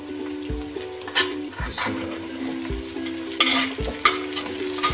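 Kachnar meat masala with tomatoes and spices frying in a pot, a close sizzle with repeated scraping stirs and clunks against the pot over steady background music.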